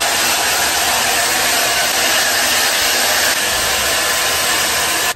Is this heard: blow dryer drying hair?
yes